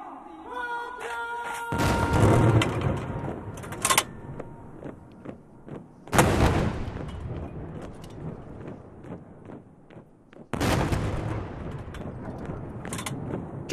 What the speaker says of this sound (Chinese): 轰鸣的礼炮响彻天安门广场的上空